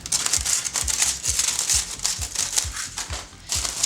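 Tin foil crumpled and scrunched by hand into a ball, a busy run of close crinkling and crackling bursts with steady rustle throughout and no talk.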